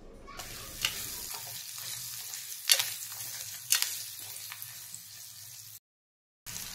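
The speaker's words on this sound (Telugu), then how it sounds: "ఇప్పుడు సాల్ట్ వేసుకొని మొత్తం కలిసేలా కలుపుకుందాం" Fried bitter gourd pieces are stirred with salt in a hot pan, a close, low sizzle broken by sharp spatula clinks and scrapes at irregular intervals, then a short stretch of silence near the end.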